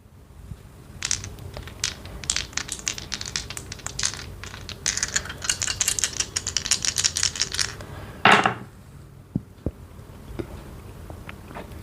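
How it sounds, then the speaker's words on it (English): Astrology dice being shaken and rolled produce a dense run of sharp clicking rattles, then a louder clatter as they land, followed by a few isolated ticks. "So shall we begin with the astro dice first?"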